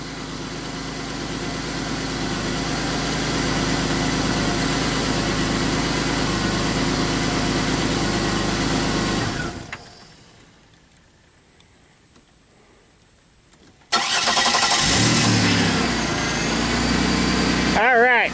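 A 2001 Pontiac Bonneville engine idles steadily and fairly loud, then cuts out into a few seconds of near silence before it restarts abruptly and settles back to idle, with people talking over it.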